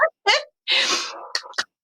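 A single sharp, close sneeze bursts out, preceded by short gasping intakes of breath and followed by a couple of quick breathy sounds.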